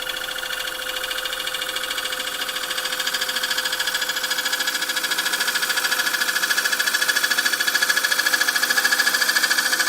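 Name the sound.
wood lathe cutting bowl with long grind gouge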